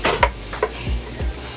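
Clinks and scrapes of chopped onion being added to melted butter in a pan while making chicken pot pie, a few brief metallic knocks of utensils against the pan over a faint background.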